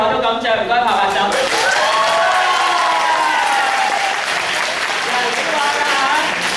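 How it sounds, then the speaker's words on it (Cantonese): An audience at a seminar bursts into applause on request, a dense wash of many hands clapping at once, loud and sustained throughout, with a voice briefly heard at the start. "有幾多人想我以後都咁着？唔該拍拍手。"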